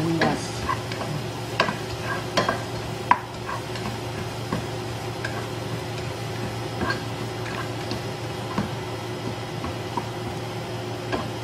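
Onions sauté in a pan for an arroz caldo with oyster mushroom, a steady low sizzle running throughout with frequent small ticks and clicks of a stirring utensil against the pan.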